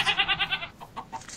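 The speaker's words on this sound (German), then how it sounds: "Hier sind jetzt zwei neue Ziegen drin." Goats in the Life in the Woods video game bleat in a rapid series of about six wavering calls, followed by softer, spaced bleats, fairly close with no talk.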